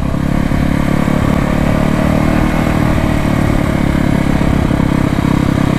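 A 1968 Harley-Davidson motorcycle engine running after more than 30 years idle, loud and close with a steady throbbing idle and uneven pulsing firing throughout, no speech.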